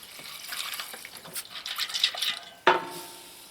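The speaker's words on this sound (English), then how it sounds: "put some water in to cover it." Water poured into a pot of noodles on a tiny house wood stove, a soft close splashing trickle with a sharper splash near the end, heard alone.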